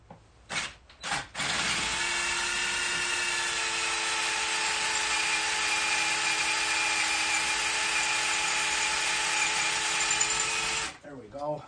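Power drill with a brand new bit boring out an Argo track pin, a steady high whine that holds for several seconds after a couple of short starts, close and loud, with a voice briefly at the end.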